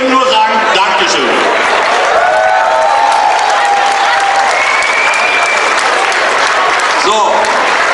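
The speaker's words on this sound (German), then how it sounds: "das ist auch einen besonderen Applaus nochmal wert" An audience applauds at a Cologne carnival session, dense clapping sustained for several seconds with scattered cheers and whistles, loud and close, under a hall full of crowd noise.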